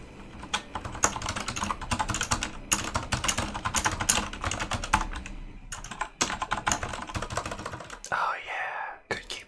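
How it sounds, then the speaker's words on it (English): Rapid, dense clacking of a computer keyboard being typed on close up, continuous bursts of keystrokes with short pauses, ending in a brief rustle. "Oh yeah, good keyboard ASMR"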